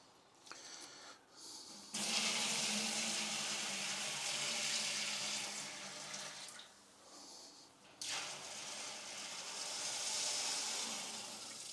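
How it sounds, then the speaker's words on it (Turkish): Liquid, a dark mash for making raki, pours into a cauldron in a steady rushing splash that swells and pauses a couple of times, close and fairly loud, with no speech. "Şimdi bunu kazanımızın içine dökeceğim."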